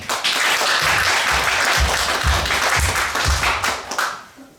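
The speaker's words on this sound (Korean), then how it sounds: "어둠을 이기시고 부활하신 주님께 우리 한번 다시금 감사의 박수 한번 올리겠습니다" Church congregation clapping in thanks to the risen Lord at an Easter Sunday service, a steady full-room round of applause with a rhythmic beat running through it, fading toward the end.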